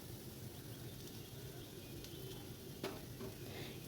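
Potatoes with poppy seeds, aloo posto, cook in a pan in a village kitchen, a faint continuous sizzle with a light scrape or two as they are stirred.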